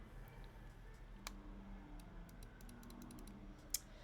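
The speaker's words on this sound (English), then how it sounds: "I have a slightly clicky keyboard." Light clicky computer keyboard keys tapped at a quiet desk, a scattering of faint, sparse clicks with one sharper keystroke near the end, heard alone over low room hum.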